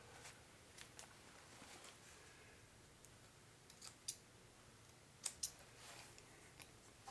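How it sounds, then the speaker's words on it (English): Scissors snipping loose threads off a sewn jeans pocket, a few quiet crisp close clicks scattered over several seconds against a soft background hiss. "So cut those threads off."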